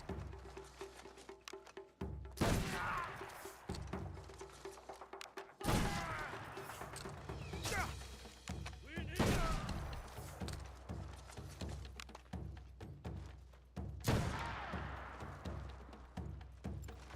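Gunfire in an Assassin video game: several sharp, loud shots spaced apart, each with a broad crack and decaying tail, over quiet ambient background with no talk.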